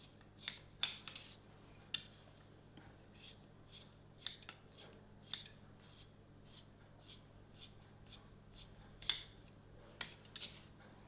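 Tailoring scissors snipping through cloth in a series of sharp, separate cuts at an irregular pace, close and fairly quiet against a low steady hum.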